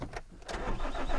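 A car engine cranks and restarts after stalling on a remote Welsh mountain road, a brief whir and catch followed by a rising, close engine rumble that settles into a steady run.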